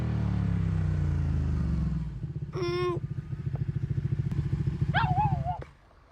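A motorcycle engine in an animated series scene, starting with a low rumble, then a rhythmic chugging idle with puttering pulses before cutting out, with a couple of squeaky cartoon-like effects over it.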